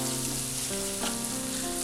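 Tomato and masala powders fry in oil in a pan for egg biryani, giving a close, steady sizzle and crackle with faint stirring, no voices.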